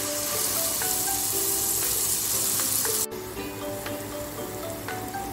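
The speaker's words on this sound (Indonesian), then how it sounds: "Sekarang akan saya tumis bumbu yang saya haluskan tadi ya." A ground spice paste hits hot oil and sautés for a spicy mujair fish dish, giving a loud, continuous, crackling sizzle up close with faint popping, dipping slightly midway but never stopping, with no voices.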